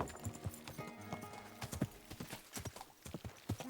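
Horse hooves clip-clop at a steady walking pace in Kingdom Come: Deliverance II, a medieval game, moderately close, with faint ambient game sounds underneath.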